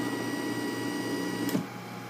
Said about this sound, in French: on va laisser l'imprimante se mettre en position